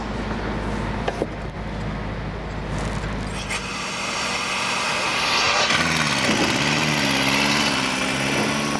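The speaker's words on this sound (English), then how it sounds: "In operation, this is an air motor. It's a vane motor." An air-powered vane motor drives a drum skimmer, giving a steady, loud whirring drone that grows brighter and more intense midway, with a wavering pitch and constant hiss from the air supply.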